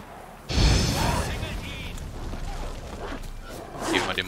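Igni fire spell cast in The Witcher 3, a sudden roaring whoosh of flame that bursts in loudly, then trails off into a sustained crackling rush with faint combat sounds behind it.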